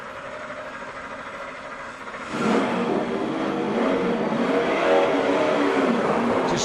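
A low engine hum jumps into a louder, rougher roar as a stalled race car engine fires back up at the 2012 Aaron's 499 and keeps running with rising revs.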